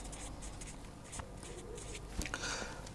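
Marker or chalk writing out a mathematical conjecture on a board during a lecture: soft, steady scratching and tapping strokes at close range, with a sharper tap near the end and no talking.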